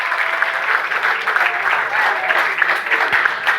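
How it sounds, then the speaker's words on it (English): Crowd applause and cheering at a Chicago promotional event, dense steady clapping with whoops filling the space, loud and close throughout. "Khalil Everett, y'all make some noise for the stars of the movie Beats"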